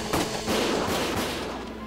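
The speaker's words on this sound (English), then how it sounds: "Gunfire!" A burst of gunfire in a Valkyria Chronicles battle, several overlapping loud shots and blasts rolling together into a sustained rumble that slowly fades.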